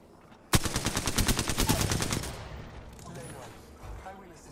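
Rapid automatic gunfire in a video game. A dense, evenly spaced burst of loud shots lasts about two seconds, then fades into quieter background game sounds.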